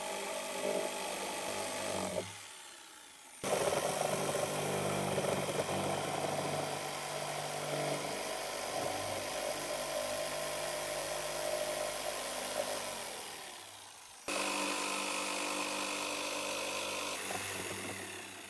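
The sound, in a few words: circular saw and jigsaw cutting vinyl fence rail holes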